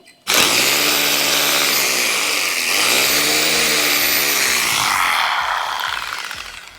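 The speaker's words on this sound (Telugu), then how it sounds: "మార్క్ చేసుకొని అక్కడ హోల్స్ అయితే వేసుకుంటున్నాను" Power drill boring holes into a house wall to mount a Jio Air Fiber socket, a loud close whine that holds steady, dips and rises in pitch, then winds down at the end.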